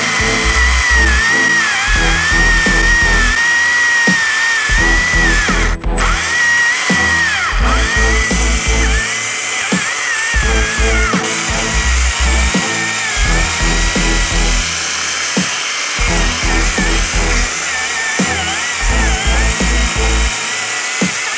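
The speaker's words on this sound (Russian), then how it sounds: "Мы отпилим сначала вот так, потом еще ниже." A STIHL cordless chainsaw cuts through a thick tree trunk, its loud steady motor whine rising and dipping in repeated bursts as the chain bites into the wood, close up and alone.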